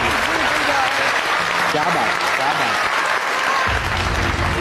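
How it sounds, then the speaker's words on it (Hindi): A live audience claps steadily in sustained applause after an acting performance, with voices calling out over it throughout. "साउथ भाई के लिए तालियां यार।"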